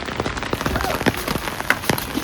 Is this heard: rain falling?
yes